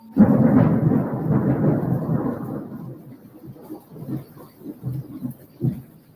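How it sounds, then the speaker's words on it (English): A long, loud rumbling roll of thunder, strongest at the start and then fading into softer, uneven rumbles, with no speech over it. "but now it's thundering."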